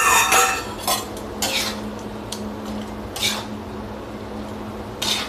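A spoon scrapes and clinks against a pan while dill greens bhaji with dal, salt and chilli is stirred, a few sharp metallic knocks over a low steady hiss, close and fairly loud, with no talking.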